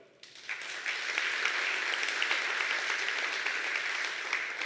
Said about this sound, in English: Applaud if you are.